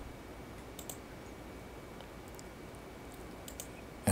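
A computer mouse clicks a few times, soft and close, as light isolated ticks over a quiet room hum with no talking.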